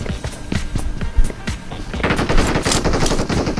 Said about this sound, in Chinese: 打这个人的枪声在左边